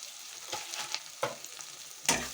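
Shahi biryani masala for egg dum biryani is stirred in a pan, making uneven scraping strokes and bursts of sizzle, with a louder scrape near the end.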